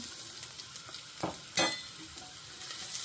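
Chopped garlic fries in a little olive oil in a pan, a faint, even sizzle with a few quick scraping stirs, quiet and close with no talking.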